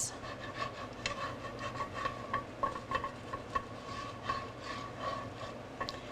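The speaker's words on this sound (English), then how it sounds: "I'm just going to kind of take a wooden spoon and scrape up all of the browned bits." A wooden spoon scrapes browned bits of pork tenderloin from a pan deglazed with apple cider vinegar, giving quiet, irregular scraping and rubbing strokes over a low sizzle.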